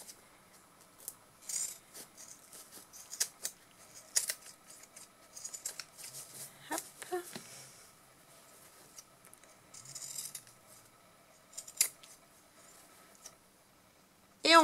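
Quiet, irregular snipping and crunching of pinking shears through quilted fabric, with soft handling noises between cuts and no talking.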